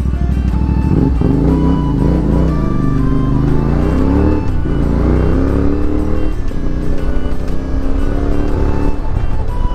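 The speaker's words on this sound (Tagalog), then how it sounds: "May mga sasakyan eh." Close, loud engine noise from vehicles on a rural road, with pitch rising and falling as engines rev and shift. A continuous motor drone with no voices.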